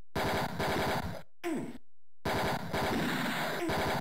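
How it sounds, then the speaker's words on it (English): Rapid automatic gunfire from a cover-based shooter video game, loud bursts of repeated shots with a short gap of silence midway before firing resumes. "Why am I shooting people?"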